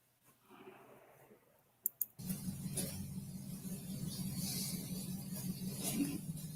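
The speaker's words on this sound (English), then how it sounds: "you can hear the truck right now" Truck engine idling nearby, a steady low rumble that starts abruptly after a couple of faint clicks and continues evenly to the end.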